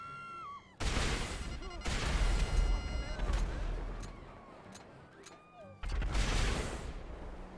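Rapid rocket barrage from a Chernobog missile launcher vehicle in GTA 5 Online, loud blasts in two heavy bursts with a lull between, explosive crashes and rumble filling the scene while a voice talks over it.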